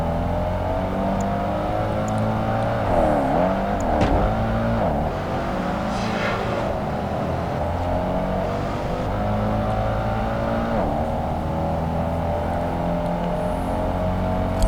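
Race cars, among them a Dodge Viper, roar through Project Gotham Racing 2 on Xbox, engines droning and revving continuously and loudly with pitch sweeps as gears shift, a steady layered motor whine with no voices.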